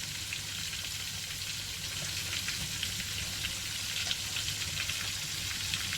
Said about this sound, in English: I like frying my fried chicken in my Dutch pot